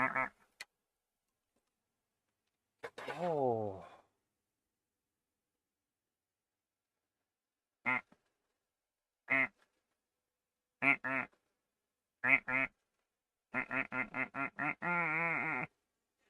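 Duck quacking in a video game, a series of short clear quacks spaced apart, then a rapid run of quacks near the end; one brief spoken exclamation near the start.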